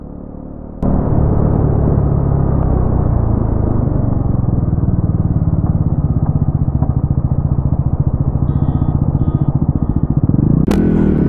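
A 2024 Bajaj Pulsar NS400Z starts up suddenly and then revs hard on the road during a top speed run, giving a loud, close, continuous engine drone with wind rush, then a sharp burst near the end.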